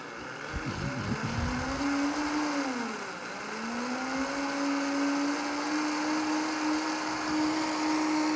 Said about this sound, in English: Can you hear me over the roar of the blender?